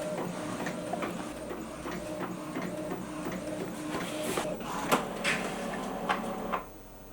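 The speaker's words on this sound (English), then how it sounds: "Whilst that's printing, I'm just going to turn on my Cricut machine and open it." A printer running off a sheet of art stickers gives a steady, faint mechanical whir with a low hum, broken by soft clicks and clunks as the paper feeds.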